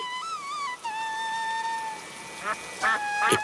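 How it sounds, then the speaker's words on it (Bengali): A duck gives a few nasal quacks, close and clear, with a tonal background sound running beneath them. "এই দেখ তোর প্রিয় হাঁস।"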